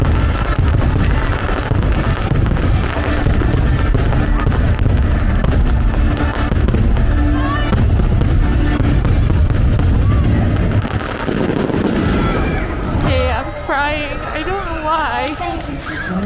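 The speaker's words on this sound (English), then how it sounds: "I can see the castle fireworks and the fireworks back behind" Castle fireworks at crowded Disney World boom and crackle continuously with deep bursts, a rowdy crowd murmuring underneath; near the end the blasts thin out and whistling, squealing sparkles rise above the din.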